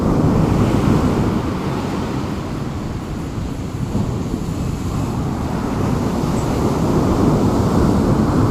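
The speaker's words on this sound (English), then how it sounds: "These waves are coming in." Waves breaking on Gorleston Beach in Norfolk, a continuous loud wash of surf with wind buffeting the microphone, steady and close with no voices.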